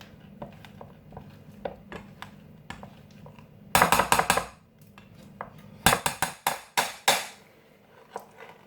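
A metal utensil clanks and knocks against a pot while garlic potatoes are crushed by hand, with scattered light taps, then two dense bursts of loud, rapid metallic clatter, close by.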